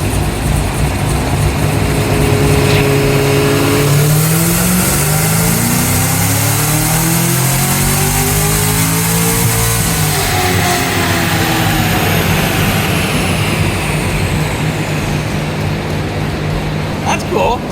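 Cadillac CT5-V Blackwing being floored on a dyno, its engine roaring loud and close as revs climb in a long sweep, peak, then drop back toward idle, with a voice talking over it.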